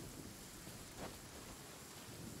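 Steady rain hisses through a stormy scene in the Genshin Impact video game, with a single soft thunder crack briefly rising midway; faint and distant overall, no voices.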